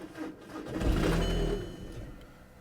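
A £250 salvage auction car's engine cranks and briefly catches with a rising rumble, then fades out within a couple of seconds, heard nearby and alone.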